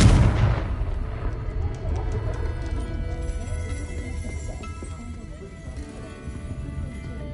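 The Confringo explosion spell goes off in the video game Hogwarts Legacy as a loud booming blast at the start, followed by a sustained dense rumble of game sound and music.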